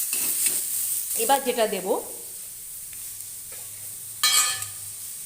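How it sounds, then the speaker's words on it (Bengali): Whole coriander and cumin seeds fry and sizzle in a pan with a few stirring scrapes, a brief spray-like hiss near the end, while someone speaks briefly over it. "একটু হালকাভাবে নাড়িয়ে নেব, এটাকেও ফ্রাই করে নিচ্ছি"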